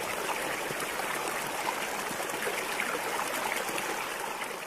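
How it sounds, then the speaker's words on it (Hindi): The Krishna river flowing nearby, a steady broadband rush of moving water like a stream, constant in level throughout with no voices. "पास में कृष्णा नदी है।"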